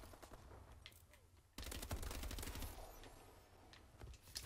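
Rapid bursts of automatic gunfire in the video game Call of Duty: Advanced Warfare, with faint shots early on, then a loud, dense volley of overlapping shots from the middle to the end.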